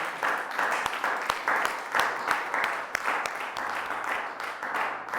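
Church congregation applauding during a morning service, a dense wash of many hands clapping with sharp individual claps standing out, steady and moderately loud throughout.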